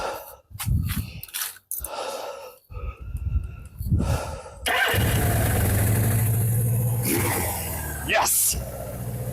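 A Suzuki GS750 motorcycle cranks through several short bursts outdoors in snow and wind, then catches and settles into a steady loud running engine, with breathing and some talk heard early on.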